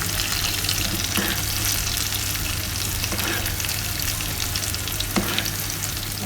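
Salmon sizzles and fries in butter in a pan, a steady crackling hiss with occasional stirring and basting scrapes, close and continuous with no talking.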